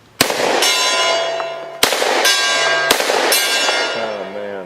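Three sharp .45 submachine gun shots from a Thompson M1A1 short-barreled rifle ring out at an outdoor range, each strike on a steel gong followed by a long, loud metallic ring that sustains between shots.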